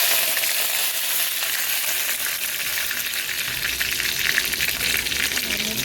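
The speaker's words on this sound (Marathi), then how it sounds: "तेल गरम झालं आहे छान. आपण मोहरी टाकून घेऊया." Mustard seeds and curry leaves sizzle and crackle in hot oil for sambar, a dense, steady frying hiss with small pops throughout, close and alone.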